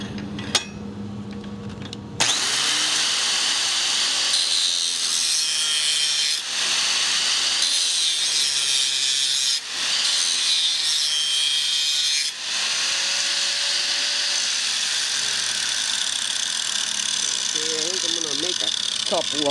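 A homemade mower blade sharpener in a home shop runs a test, a loud continuous grinding and rasping that starts abruptly after a brief quiet moment and carries on with small dips, with no talking.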